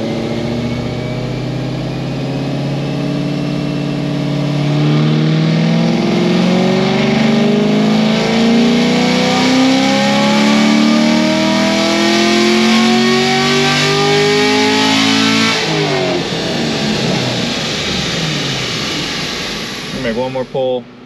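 Loud Camaro SS 1LE V8 on a dyno, the engine climbing steadily in pitch through a long full-throttle pull before the revs drop off sharply, with a voice heard faintly over it.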